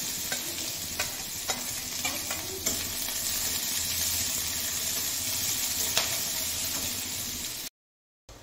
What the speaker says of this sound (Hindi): अब ये सब्जी अच्छे से फ्राई हो गया है